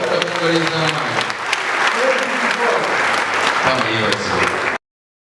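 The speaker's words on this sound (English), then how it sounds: "May we clap for the Lord." Congregation applause at a church diocesan gathering, sustained crowd clapping across the room with voices talking over it throughout, ending abruptly.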